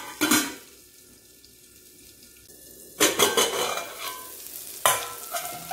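Chopped ridge gourd cooks in a pan while a spoon scrapes and clatters against the metal in three short bursts, with a soft sizzle and low hum in the quieter stretches between.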